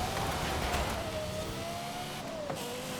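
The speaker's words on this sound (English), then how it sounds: "I also kinda like the engine sound, actually. It has like a screaming note to it." A race car engine in Forza Horizon holds a high, screaming note that sags and rises slightly over a few seconds, steady and fairly loud with road noise underneath.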